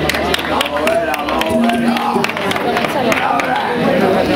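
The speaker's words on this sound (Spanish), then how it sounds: "Cuidado con las palmas" A crowd claps at the awards ceremony of a San Silvestre New Year's road race in Abarán, a sharp irregular patter of hands mixed with loud chatter and voices across the whole stretch.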